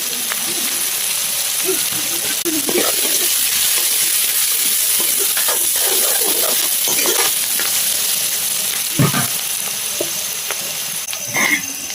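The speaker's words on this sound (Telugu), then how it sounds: "ఉల్లిపాయలు వేగిన తర్వాత అయితే టమాటా వేసుకుంది" Onions and tomato fry in a pan for a banana flower curry cooked in a village kitchen, with a steady close sizzle, occasional stirring scrapes and brief clatters throughout.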